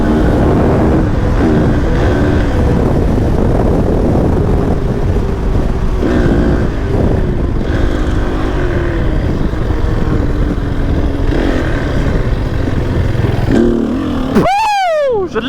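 Enduro motorcycle engine being ridden in a field in Auvergne, a loud continuous rumble with shifting pitch, rising into a sharp rev sweep near the end, with a voice talking over parts of it.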